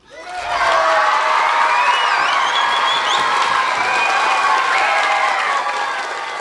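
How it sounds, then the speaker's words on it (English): An audience at an amateur radio contact with the International Space Station breaks into sustained applause with cheering and some whoops, including children's voices. It rises quickly and stays loud and dense to the end. "Everyone here wants to give you a big round of applause."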